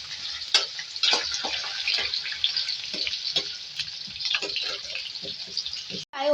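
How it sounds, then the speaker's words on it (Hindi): Potatoes sizzle and spit steadily in hot oil, a continuous bright crackle with occasional clinks of stirring, close by and unbroken for several seconds. "पहले फ्राई करेंगे आलू को"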